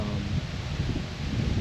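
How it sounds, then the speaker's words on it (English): Gusty spring wind buffets the microphone outdoors beside a tiny A-frame cabin, a loud continuous low rumble and rustle with no speech. "It's pretty windy today"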